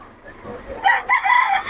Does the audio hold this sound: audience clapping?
no